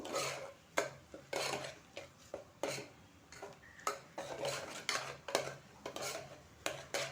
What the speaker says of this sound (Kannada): ಮಸಾಲೆ ಹಾಕ್ಬಿಟ್ಟು ಒಂದು ನಿಮಿಷ ಚೆನ್ನಾಗಿ ಫ್ರೈ ಮಾಡಬೇಕು